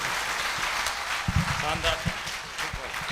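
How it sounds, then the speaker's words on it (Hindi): An audience at a Modicare motivational seminar claps steadily in a dense, sustained patter, with someone talking loudly over the applause throughout. "एक जोरदार ताली, फिर से जोरदार ताली दोस्तों"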